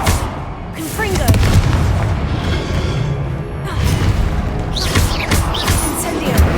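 A Confringo explosive spell in Hogwarts Legacy lets off heavy booming blasts and whooshes amid dense combat noise. The rumbling impacts keep coming loud throughout, under a voice casting spells.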